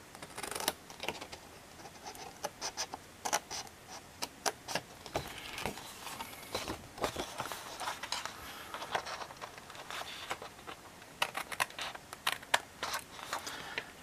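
Scissors cutting through paper during a table-decoration craft, a steady run of close, crisp snips and rustles with short pauses, no talking.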